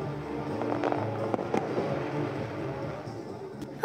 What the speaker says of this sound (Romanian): Seara a culminat cu un spectacol impresionant cu focuri de artificii, care a colorat și iluminat întreg orașul.